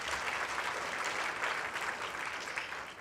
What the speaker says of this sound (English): I appreciate your applause